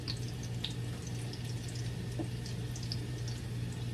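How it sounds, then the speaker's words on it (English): Onions frying in olive oil in a pan over high heat for lomo saltado, a constant close crackling sizzle with scattered pops and a low hum underneath, no talk. "we're gonna add the onions in the pan"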